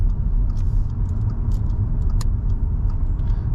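Car engine rumbles steadily from inside the cabin as the driver drops a gear on the approach to a roundabout, with light clicks and ticks over the low drone.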